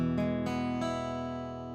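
Guitar chord strummed cleanly with curled fingers, each note ringing clearly, struck three times in quick succession and then left to ring and slowly fade, close and alone.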